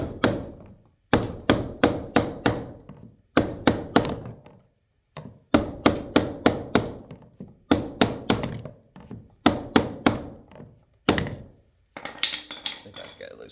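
A screwdriver tapped against the fuel pump lock ring on a Dodge Ram fuel tank, giving sharp metallic knocks in quick clusters of three to five with short pauses between them, loud and close.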